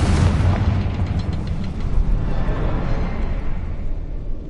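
A Confringo fire spell bursts in Hogwarts Legacy, a loud, sustained booming roar of explosive energy that rumbles steadily for several seconds with a slight swell midway.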